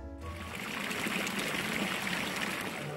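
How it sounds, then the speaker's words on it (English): Water runs from a town fountain in Lausanne, a steady soft splashing trickle heard continuously and fairly close, with no voices. "Not forgetting to drink some water from the fountain, like the pigeons did."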